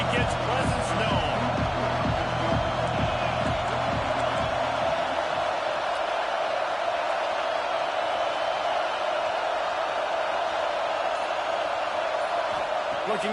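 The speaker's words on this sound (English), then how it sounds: "This crowd ready to make its presence known." A football stadium crowd at an XFL game roars in a steady, loud wash of cheering and noise, with rhythmic thumping claps or stomps early on, continuing throughout.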